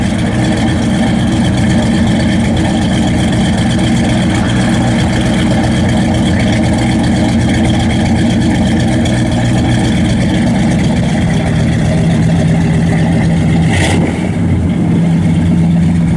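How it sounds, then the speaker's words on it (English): A 1972 Chevrolet Chevelle Malibu SS with a full master exhaust and a mild cam runs loud and steady close behind the car on a cold day, a deep rumbling idle that holds throughout with a small blip near the end. "Sounds good out the back. Got a full master exhaust on it."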